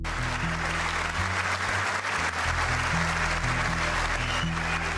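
Applause for Medal of Honor recipients fills a large hall as a continuous, even wash of clapping, with a low steady musical tone sustained underneath.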